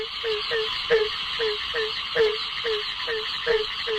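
Barking tree frogs (Hyla gratiosa) call in a steady rhythmic chorus of short barking croaks, about two per second, over a constant background hum of other frogs and insects.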